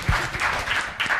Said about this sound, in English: Round of applause for Dean.